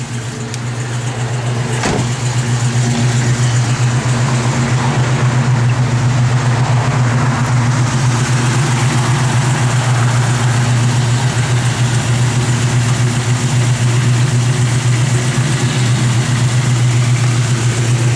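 A 1969 AMC AMX engine idles steadily and loudly close by, a deep constant rumble with a faint early blip, running on its own without voices.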